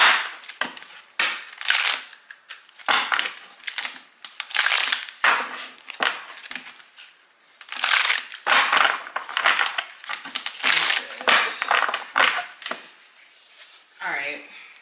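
Repeated bursts of tarot cards being shuffled and riffled close by, rough crackling flurries separated by short pauses, with occasional speech mixed in.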